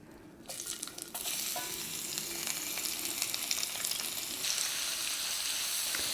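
Half a large onion fries in a pan with a steady, bright sizzle that swells as it is stirred, close and continuous with no talking.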